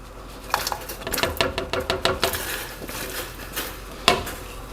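Raw potatoes are dropped into a pot of salted water for a ranch potato salad, giving a cluster of close clattering knocks and splashes followed by a few scattered clinks.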